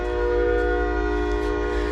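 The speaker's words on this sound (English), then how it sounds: "Got the train out there," A train outside a machine shop sounds a loud, sustained horn, a steady harmonic blare over a low rumble, with no talking.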